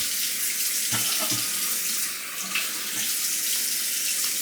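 Water runs steadily from a bathroom tap into a sink while the face is wetted for a wet shave, with brief splashes and hand sounds over the continuous close flow.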